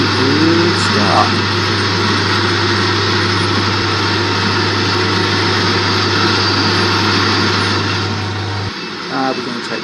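Small homemade jet engine driving a metal lathe, spooling up after a start: a loud, steady roar with a strong low hum runs almost without pause, then cuts off abruptly near the end.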